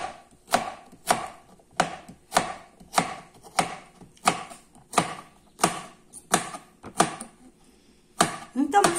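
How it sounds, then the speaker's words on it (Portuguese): A knife chops food on a cutting board in about fifteen sharp, evenly spaced strokes, crisp and close, with a quicker flurry at the very end. "Vamos picar mais uma vez."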